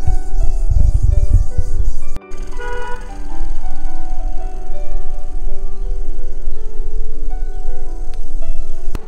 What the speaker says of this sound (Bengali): এখানে না ঝিঝি পোকা ডাকছে,